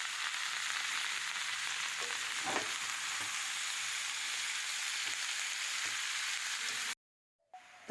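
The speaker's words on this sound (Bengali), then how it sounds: "তো এবারে ব্রোকলি আর কড়াইশুঁটিগুলো দিয়ে আবারও খুব ভালো করে ভেজে নেব।" Broccoli and green peas fry in a hot pan with a steady, dense sizzle and faint stirring scrapes. It stays close and unbroken for about seven seconds, then cuts to silence.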